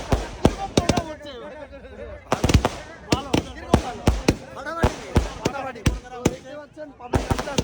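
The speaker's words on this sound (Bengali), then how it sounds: "আমার এই পিছনটাতে দেখতে পাচ্ছেন আতসবাজি চলছে এই যে ফাটকা ফুটছে" Fireworks and firecrackers at a village Eid celebration burst in a rapid irregular series of loud sharp bangs, some crackling in clusters, with crowd noise and faint music beneath.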